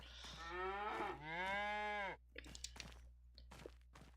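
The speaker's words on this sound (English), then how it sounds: "I've never heard calves moan that much in any barn I've ever been in." Calves in a barn on the Hof Bergmann farming game moo loudly in two long, drawn-out calls, followed by quieter thumps and shuffling.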